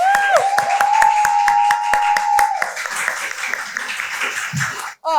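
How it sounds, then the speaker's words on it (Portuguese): Hearty clapping from a small group on a Brazilian Portuguese podcast episode, dense and steady for several seconds before trailing off, with voices and a sustained tone over the start. "Uma salva de palmas pra Rebeca, minha gente!"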